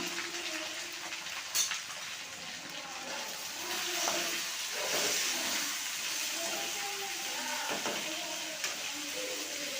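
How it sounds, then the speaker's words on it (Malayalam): Potato pieces fry in coconut oil with mustard seeds, giving a steady, soft sizzle and crackle with a few light clinks of a utensil against the pan. "രണ്ട് സ്പൂൺ വെളിച്ചെണ്ണ ഒഴിച്ച് കൊടുത്തിട്ട് അതിലേക്ക് കടുക് ഇനി അതിലേക്ക് നമുക്ക് മുറിച്ച് വെച്ചിരിക്കുന്ന ഉരുളക്കിഴങ്ങിൻ്റെ കഷ്ണങ്ങൾ ഇട്ട് കൊടുക്കണം"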